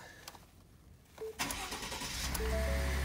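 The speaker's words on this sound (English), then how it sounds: "Gonna go ahead and start it up." A 2015 Ford F-150 pickup with a 2.7 liter V6 cranks briefly and fires up, then settles into a steady, rising idle, heard close and alone.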